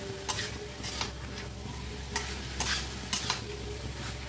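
Noodles being stir-fried with tomato in a pan for restaurant-style chicken hakka noodles, a steady soft sizzle with a few sharp scraping stirs of the spatula spaced through it, close and alone without talk.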